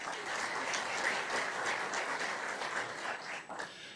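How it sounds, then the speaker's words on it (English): A hall audience at a sports tourism congress gives a round of applause for ambassadors, a dense, even patter of many hands that sounds fairly distant and soft and tapers off near the end. "for ambassadors, a round of applause"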